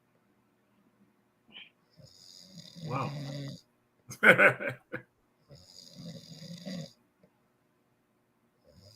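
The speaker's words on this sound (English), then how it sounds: "this dude snores pretty loud" Man snoring loudly, two long rasping inhalations with a snort-like burst between them, close and prominent, with a brief spoken exclamation in the middle.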